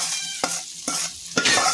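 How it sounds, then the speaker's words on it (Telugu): Hot tempering with asafoetida and fenugreek powder poured into tomato pickle, sounding as three sharp sizzling bursts that crackle and fade between each pour, close and loud with no voices. "ఇలా ఆ పోపు అంతా టమాటా పచ్చడిలో వేసుకోవాలి."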